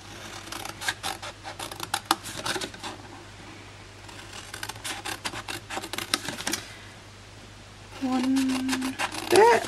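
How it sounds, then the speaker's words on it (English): Scissors snip along the score lines of a paper lid for a full-size wine bottle gift box, a run of short crisp cuts in quick bursts under a voice talking, with a steady low hum behind and a brief tonal beep near the end. "It is a bit quicker with the bigger scissors, isn't it?"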